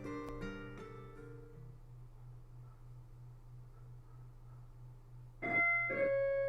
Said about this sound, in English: My doorbell rings at 4 p.m.